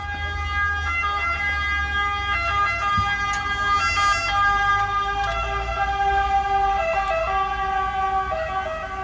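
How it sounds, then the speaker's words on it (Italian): Emergency sirens wail steadily at a distance over a camper weekend around Rome, a continuous tonal drone with road traffic rumbling underneath and no talking. "anche se senti le sirene in lontananza"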